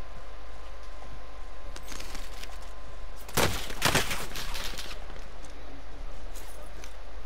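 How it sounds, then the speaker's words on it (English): Enemy gunfire in a multiplayer shooter video game: a dense burst of rapid shots cracks out midway, loud against a constant background hum, and then fades back to quieter game ambience. "They're shooting you from the top"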